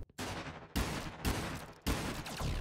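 Loud, dense bursts of gunfire from a first-person shooter video game, three sustained volleys broken by brief pauses, close and without talk over them.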